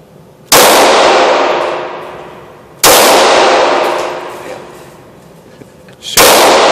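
An FN 5.7 pistol fires three loud, sharp shots a few seconds apart, each crack trailing off in a long ringing decay.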